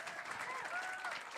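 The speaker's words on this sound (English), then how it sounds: "Keep that round of applause going for Cara and Manasala" Audience applause at a live show, steady dense clapping from a crowd filling the whole stretch with no pauses, moderately loud.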